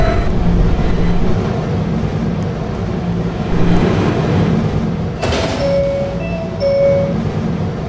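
Sliding doors on a stopped subway train open with a sharp rush of air and a rattle partway through, over a steady low hum of the car, followed by a few chime-like electronic tones.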